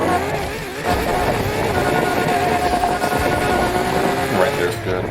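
A synthetic sports car engine in Need for Speed Heat drones at a steady high rev, loud and continuous, with a buzzy exhaust tone that shifts slightly in pitch throughout.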